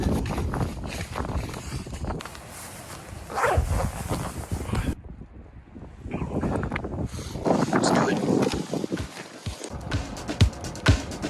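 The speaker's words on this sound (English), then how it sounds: "Jacket going on." A jacket pulled on and zipped up outdoors in -5 degree cold, with fabric rustling and several quick zip strokes at close range, broken by a short quiet gap and faint vocal sounds.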